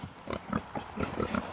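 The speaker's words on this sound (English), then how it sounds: "A dirty, muddy pig's a happy pig." Pigs grunting in a muddy pen, a series of short, close grunts in an uneven rhythm, fairly soft, with no talking.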